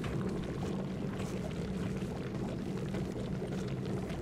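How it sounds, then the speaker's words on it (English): A water gun in the video game Cryostasis bubbles constantly, a continuous low gurgling, churning wash of water noise at steady loudness with no voices. "this gun, it's like bubbling all the time"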